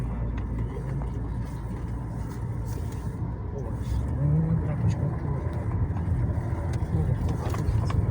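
BMW E46 3.0 Touring rolling forward by itself on idle after the brake is released: a low, steady engine hum that swells slightly midway, with people talking over it.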